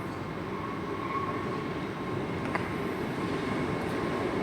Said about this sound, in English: I think it's this service departing out now, departing platform 9.